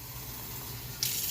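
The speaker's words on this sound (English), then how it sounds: "Nice warm water. Fill it up." Warm water runs from a tap into a container, a steady close hiss of flowing water that brightens into a louder splashing gush near the end.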